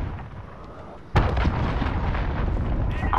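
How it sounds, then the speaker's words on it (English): Cruise missile blast in Call of Duty: Modern Warfare, a sudden loud boom after a second of quiet battle ambience, followed by a sustained rumbling roar with scattered debris and distant gunfire. "Allied cruise missile launched."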